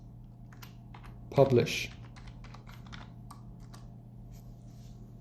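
Computer keyboard tapped as a terminal command is entered, a short cluster of keystrokes followed by scattered faint clicks under a steady low hum, with someone speaking briefly.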